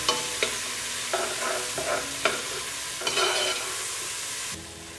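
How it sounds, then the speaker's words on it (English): Onions stirred in a pot as the base for tomato bisque, a steady close sizzle broken by several distinct spoon scrapes and clanks, with no talking. "Should I stir it up? Yep, stir it up."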